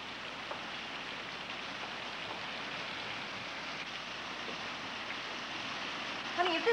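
Steady, fairly quiet hiss of rain falling during a storm, continuous and even, with a couple of small knocks near the end.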